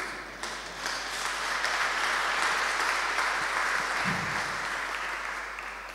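A church congregation applauds together in a steady, dense wash of clapping that swells and holds for several seconds before tapering slightly.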